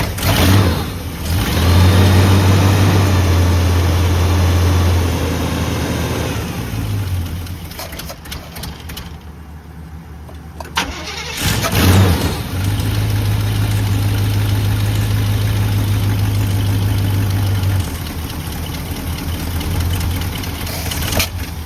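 A 1985 Chevrolet C20 pickup's engine, back running after sitting over ten years and drawing fuel from the tank, idles with a steady low rumble, briefly dropping off mid-clip before settling back into a smooth idle.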